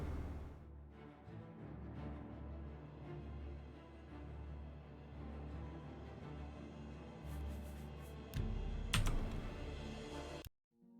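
Computer keyboard keys clatter in a steady, faint stream of typing, with a louder cluster of clacks near the end before it cuts off.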